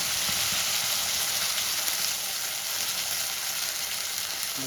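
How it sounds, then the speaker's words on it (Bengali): Onion paste frying in a pan, a steady close sizzle and hiss of hot oil with faint stirring scrapes, continuous and without talk. "খুব ভালো করে পেঁয়াজের পেস্টটাকে লাল লাল করে আমি ভেজে দেবো"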